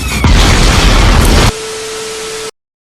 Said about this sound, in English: Eat grenade launcher, bitches!